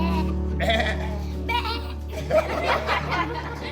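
Sheep bleat several times, with wavering, quavering calls rising out of a steady background hum and mixed with some human vocal sounds.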